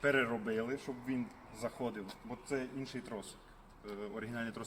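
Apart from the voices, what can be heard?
No everyday noises stand out.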